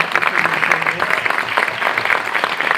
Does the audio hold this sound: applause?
yes